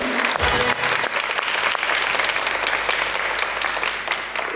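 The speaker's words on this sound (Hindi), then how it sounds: "जोर से तालियां बजाएं।" A talk show studio audience bursts into loud, continuous applause, a dense and even roar of clapping that holds steady throughout, with a brief low thump at the start.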